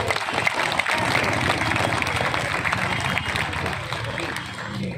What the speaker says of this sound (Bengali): একবার জোরে হাততালি সবাই